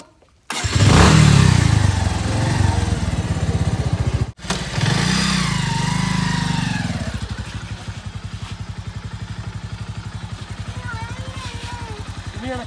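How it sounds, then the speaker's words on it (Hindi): A motorcycle engine fires up and runs loudly, revving and then settling into a steady idle that carries on to the end. "मैं अभी इस बाइक पे राइडिंग करूँगा और आपको दिखाऊँगा कि जैसे ये कैसे चलती है"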